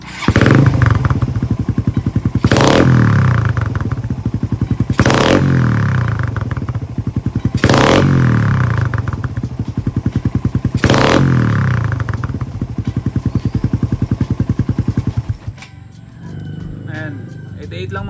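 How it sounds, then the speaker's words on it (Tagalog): Honda Raider 150 motorcycle fitted with an APIDO exhaust pipe, five sharp throttle blips roughly two and a half seconds apart over a loud, rapid idle, close up, the engine settling quieter near the end. "Ngayon subukan naman natin yung biglang rev natin. Biglayin natin yung throttle kung magkano reading nya."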